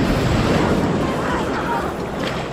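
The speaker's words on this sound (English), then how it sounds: "The ocean's angry with us tonight" Rough ocean waves crash and churn at night on Kauai in a steady loud roar, with wind buffeting the microphone throughout.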